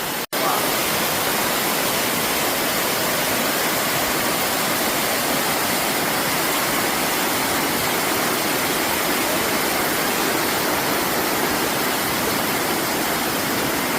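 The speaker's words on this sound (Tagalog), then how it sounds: "What a beautiful waterfall." Tigis Falls in Bohol pours straight into the sea, a loud, unbroken roar of rushing water that stays constant and close after a sharp click at the start.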